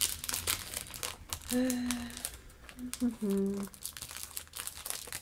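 Plastic wrapping around handmade craft cards crinkles and rustles up close as the cards are pulled out, with someone speaking French over the crackling.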